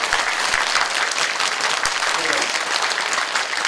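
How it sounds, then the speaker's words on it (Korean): Loud, dense applause from an audience at a Gaepo apartment reconstruction briefing meeting, steady clapping filling the hall for a few seconds with a few sharper claps near the front. "박수가 이렇게 되는 거 보니까"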